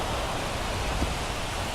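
Heavy rain pours down over a baseball stadium in MLB The Show 24 as the tarp goes on the infield, a dense, even hiss of downpour ending in one sharp knock.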